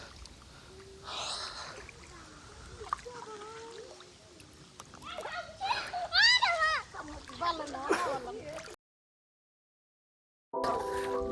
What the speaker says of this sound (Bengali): নদীতে নেমে আমি বেশ খানিকটা সাঁতরে চলে গেলাম অনেকটা দূরে